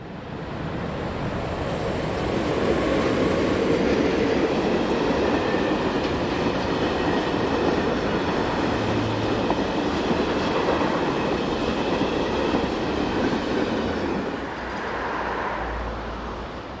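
A Swiss Re 6/6 (Class 620) electric locomotive hauls a heavy loaded cement freight train past, a loud sustained rumble with wheel clatter building, holding steady, then easing off near the end.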